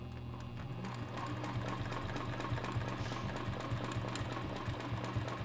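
A sewing machine hums and taps at a steady rhythm while quilting stitches along a strip, a continuous close mechanical whir with a low motor drone and no speech.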